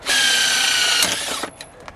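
Power drill driving a Cobalt-brand drill bit into material, a loud high whining buzz that runs steadily for about a second and a half, then cuts off, leaving a few brief clicks and rattles.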